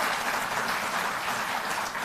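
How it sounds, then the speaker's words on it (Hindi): An audience at a political rally breaks into loud, sustained applause, a dense, even wash of clapping throughout with no voices heard over it. "तो इस पर जोरदार ताली"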